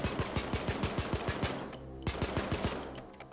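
Rapid automatic gunfire from the heist shooter Payday, two sharp bursts of repeated shots separated by a brief pause, loud and close with no talking.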